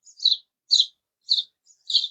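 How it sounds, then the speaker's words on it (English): Baby seagulls chirp in short, high, squeaky bursts, about five calls spaced roughly half a second apart, fairly close and clear against a silent background. "I found a shed ton of baby seagulls again"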